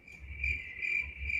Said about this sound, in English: I do hear crickets though.